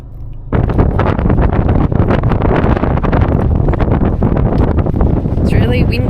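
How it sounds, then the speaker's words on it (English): Strong wind roars and buffets the microphone outdoors on an Australian road trip, a loud, constant broadband rush that starts abruptly and holds steady to the end. "It's really windy down here."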